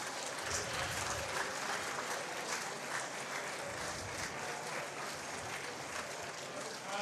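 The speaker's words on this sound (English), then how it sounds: "Give him a round of applause." Applause from the audience at a powerlifting meet during a national championship bench press session, a steady wash of crowd clapping that holds throughout the clip.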